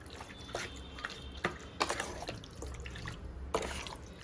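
Olive oil is poured onto a salad dressed with lime, giving a faint, irregular trickle with soft dripping taps in a quiet kitchen.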